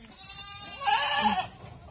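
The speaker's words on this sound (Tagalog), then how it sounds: "Goat! There's a goat!" A goat on a farm gives a single close, loud nasal bleat lasting about half a second, with faint background ambience around it.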